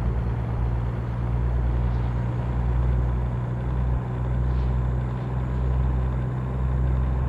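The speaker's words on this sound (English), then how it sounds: "You start to hear that turbo start to wind up" Freightliner Columbia truck engine in American Truck Simulator, a steady loud low drone with turbo spooling up as it cruises an outer road at 55, continuous and alone with no talk.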